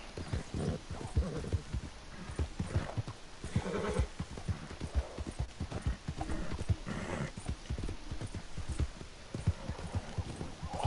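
Horse hooves clip-clopping steadily in Red Dead Redemption 2, with a whinny or neigh from the character's mount, close and continuous.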